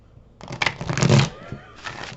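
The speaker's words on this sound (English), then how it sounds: "as I started shuffling" Tarot cards being shuffled up close, a dense papery riffling burst that runs for about a second, then a pause and a second shorter shuffle, with a voice speaking over part of it.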